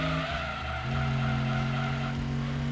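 Race car braking hard with tires skidding in Gran Turismo 2, a steady engine drone with a sustained squealing skid tone running loud and close through the whole moment.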